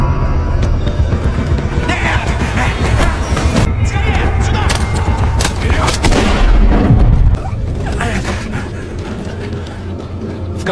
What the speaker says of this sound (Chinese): 尾随而来的警察听到枪声，赶忙循声而去